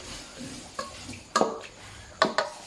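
Pickled bamboo shoots stir-fried in a wok: a soft sizzle runs under several sharp, close scrapes and clanks of a utensil against the pan, spaced irregularly.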